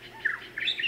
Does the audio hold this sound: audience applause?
no